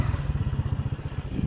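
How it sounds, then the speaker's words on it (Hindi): Motorcycle engine running steadily up close during a ride, a low rapid throbbing pulse carrying on throughout with slight clatter, no talk. "एक बाइक पे जा रहे"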